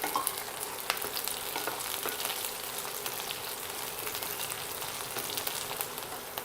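Garlic and green chillies fry in oil over a slow-to-medium flame, giving a dense, even crackling sizzle with scattered pops that carries steadily throughout, with no voices.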